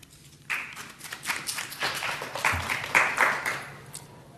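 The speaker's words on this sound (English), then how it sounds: "let's give a round of applause for Dr. Miller" A small audience claps for Dr. Miller, a medical research journalist, a few seconds of fairly quiet, uneven clapping that starts abruptly after a hush and rises and falls in scattered bursts.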